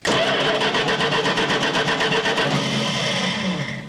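A 1970 Dodge Charger that sat for 20 years cranks over without starting, the starter churning in a fast, even rhythmic chug for several seconds, loud and close, then tapering off.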